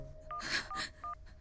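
A few short electronic dialing tones on a phone, spaced apart, with breathy rustling noise between them.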